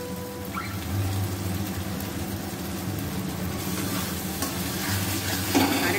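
Spice paste with salt and sugar frying in oil in a pan while being stirred: a continuous close hiss and sizzle with a low steady hum underneath and occasional scraping strokes, with no talking.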